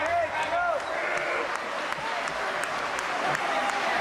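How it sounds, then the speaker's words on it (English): A wrestling arena crowd applauding, a dense wash of clapping and cheering with whistles, continuous and loud, while a commentator talks over it. "Listen to this crowd."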